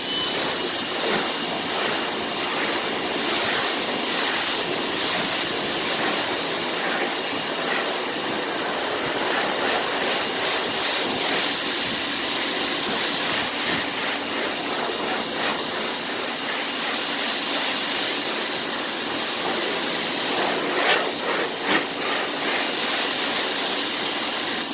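A car being rinsed after a Meguiar's Hybrid Ceramic Wax spray coating: a steady, loud hiss of water spray runs continuously, broad and unbroken throughout.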